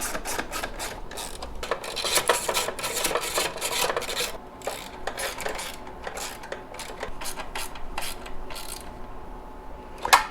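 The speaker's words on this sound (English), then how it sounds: "Let's go ahead and tighten down the pressure plate." A screwdriver tightens screws on the pressure plate of a 48V DIY battery kit, making bursts of close, raspy ratcheting and rubbing clicks that start and stop in uneven spurts.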